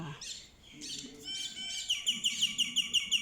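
Myna birds sing close by in varied whistles and chatter, then settle into a quick, regular string of repeated bright chirps.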